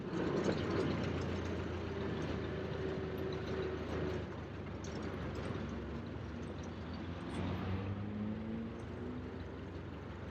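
An old vehicle's engine idles and gets a quick rev in neutral during a downshift, a steady low rumble with a brief swelling of revs early, then settling back under faint road noise.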